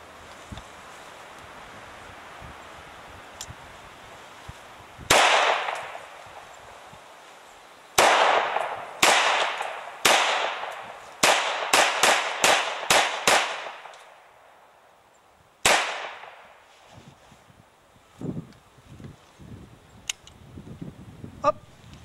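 A MAC-10 submachine gun fires about a dozen loud, sharp, echoing shots outdoors: one, then a few spaced shots, a quick string of rapid ones, and a final shot, followed by quieter handling sounds.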